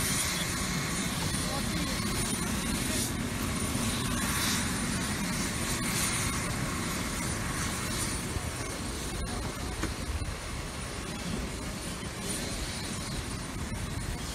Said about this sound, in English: This is one of the 6 helicopters called to transport people to the hospital.